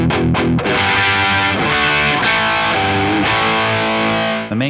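An electric guitar played through a JHS Notadumble overdrive pedal with extra gain gives a thick, continuous distorted tone: sustained, ringing chords with a few sharp strums and no voice.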